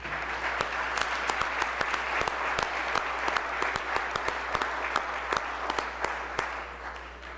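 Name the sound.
House floor applause for state champions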